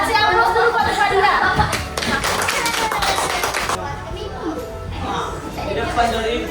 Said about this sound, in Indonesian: Kasih aplaus dulu pada Fadila.